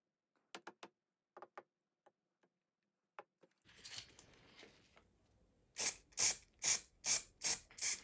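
Short clicks and rattles from handling a can of layering spray over a model railway scenery layout, followed by a run of six loud, evenly spaced aerosol bursts close by.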